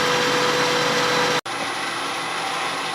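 Wood lathe spinning a small spin top blank, a steady close whirring drone with a brief dropout midway before the same hum resumes.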